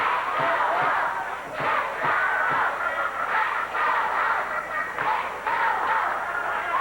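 Arena crowd at a USWA wrestling TV event in Evansville, 1990, chanting in a rhythmic, repeated pattern, loud and continuous, mixed with shouts and a commentator talking over it.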